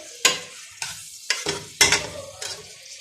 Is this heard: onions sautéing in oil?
yes